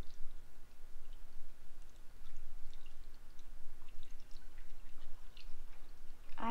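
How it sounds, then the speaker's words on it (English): Coolant poured sideways from a full bottle into the radiator of a third-generation Toyota 4Runner, a soft continuous trickle and glugging of liquid with faint drips, steady and low throughout. "If you have a really full bottle, you actually want to pour it sideways."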